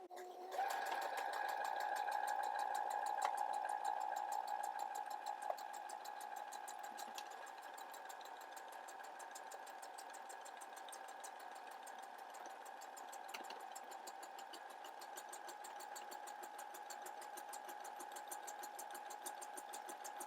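A home sewing machine runs steadily while stitching a test buttonhole on a jacket piece, a continuous close mechanical whir with a faint rapid rattle, holding even for about twenty seconds.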